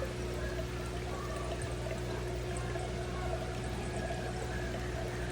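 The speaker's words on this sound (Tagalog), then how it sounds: "ginagamitan ko na lang ng siphon. Para hinihigop ko na lang yung mga dumi." An aquarium siphon sucks dirt and water out of a fish tank that holds crayfish and betta fish. It makes a steady, close rushing and gurgling water flow over a low constant hum, with no break.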